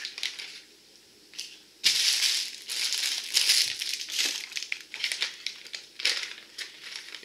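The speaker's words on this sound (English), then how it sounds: "you'll need to be a good outdoorsman and have your knife with you in order to open that bag up" Plastic crinkles and rustles up close as a knife works open an MRE fruit snack bag, in bursts of crackling handling after a quiet start.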